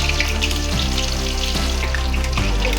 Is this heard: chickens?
no